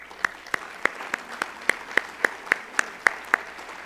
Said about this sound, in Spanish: Así que un aplauso para todos ustedes.